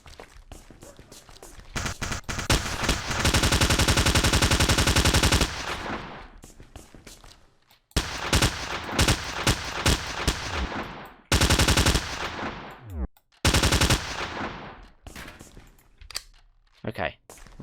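Sustained bursts of P90 submachine gun fire in the FPS Creator game Darkest Island, loud, rapid and close, broken by short pauses and a few single shots, repeating across the span.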